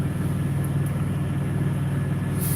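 Four-wheeler engine idling and revving softly while backing up, a steady low rumble heard from some distance with a faint mechanical hum and no talk over it.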